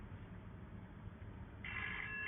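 A telephone rings during an incoming call test on an SOS phone unit, the steady electronic tone starting late and sounding alone and fairly loud over a low background hum.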